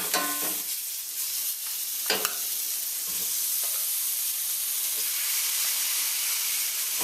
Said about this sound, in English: Stir as you put them in so it'll start picking up that lovely curry base we have on the bottom here